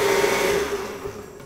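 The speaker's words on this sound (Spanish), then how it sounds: "vamos a licuar. O sea, no sé qué está pasando con esta licuadora." A kitchen blender runs with a nutmeg and salt mixture, a loud steady whirring motor hum that winds down and fades within a second and a half, no talking over it.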